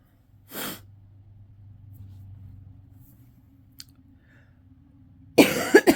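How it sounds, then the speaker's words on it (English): Two separate bursts of coughing, a short one early and a harsher cluster near the end, spaced by quiet with a low hum and a faint click between them, recorded close up. "I apologize for the coughs"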